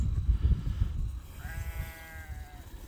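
A single wavering goat bleat rises in the middle, over low rumbling wind or handling noise outdoors.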